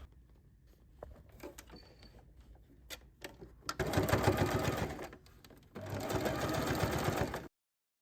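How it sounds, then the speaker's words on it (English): Domestic sewing machine topstitching bias binding along the raw edge of a large tote bag, two sustained bursts of steady rapid stitching, close and loud, separated by a brief pause and preceded by quieter handling clicks. "Now fold the bias binding over the raw edge and top stitch it 1 millimeter from the edge."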